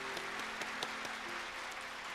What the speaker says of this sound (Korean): 우리 목사님께 감사의 박수 드리겠습니다.